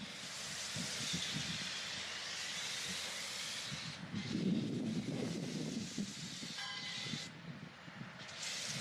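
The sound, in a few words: spraying pink foam over an old armored truck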